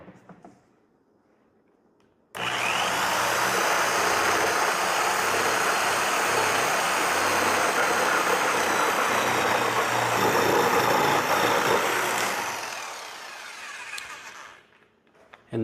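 A power saw blade cuts across a Swisstrax Pro interlocking garage floor tile, starting abruptly and roaring steadily and loudly for about ten seconds before winding down, with no talking.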